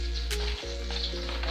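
A tablespoon of butter melting and sizzling in a pan as the start of a sauce for baked macaroni and cheese, a steady close hiss with a low hum beneath and one brief clank of a utensil.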